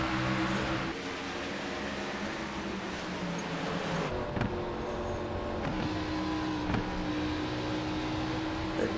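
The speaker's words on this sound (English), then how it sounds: "Green flag is out, and we're racing" Race cars at speed in a sim racing game on a green-flag restart, late in a 200-lap league race, give a continuous engine drone with steady tonal whine and occasional sharper shifts, with no talking over it.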